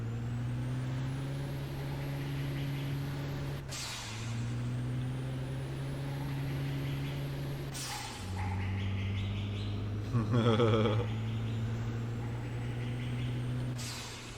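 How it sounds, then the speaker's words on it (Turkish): Steady engine drone of a minibus and road vehicles in the driving simulation game Drive 21, with low rumbling tones that shift in pitch every few seconds, like gears changing, plus a brief hiss near the end. "Araba sesleri biraz fazla gelecek."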